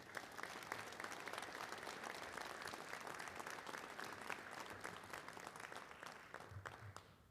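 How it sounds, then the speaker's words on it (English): A crowd applauds at a high school hall of fame ceremony honouring a 1982-83 varsity boys basketball team, a sustained, even wash of clapping that sounds somewhat distant and fades slightly at the end. "Let's give them a round of applause."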